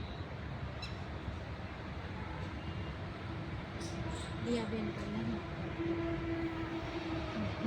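A metro train rumbles past at a distance with a broad steady roar, and a faint horn-like tone sounds briefly; voices chatter faintly in the background.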